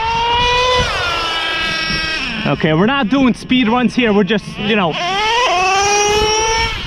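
A Traxxas Revo nitro RC truck makes a high, buzzing engine whine that climbs in pitch as it accelerates past, then surges again near the end. Someone talks over the middle stretch while the engine drops lower.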